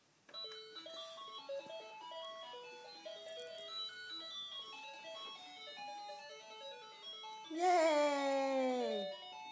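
A toy ride-on princess car plays a tinkly electronic melody of stepped beeping notes, moderately close and steady, followed at the end by a child's high, excited squeal over the tune.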